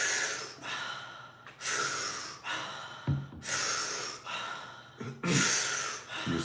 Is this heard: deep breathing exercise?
yes